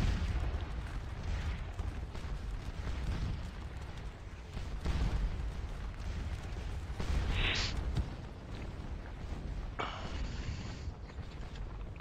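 Cannon and artillery fire from the Napoleonic battle game Scourge of War Waterloo, a dense, rumbling barrage of distant booms rolling continuously, with a couple of sharper bursts partway through.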